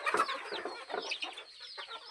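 Grown chickens on a small farm give a run of soft, fairly quiet clucks and short squawks close by, with no talking.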